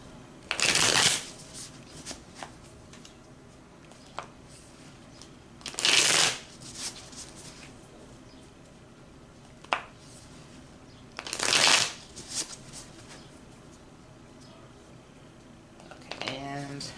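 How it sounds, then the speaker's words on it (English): A deck of cards is riffle-shuffled three times at even intervals, each a brief crisp fluttering burst, close but fairly quiet, with faint rustling and soft handling noises in between. "I guess I'll just keep shuffling until I feel like I need to stop"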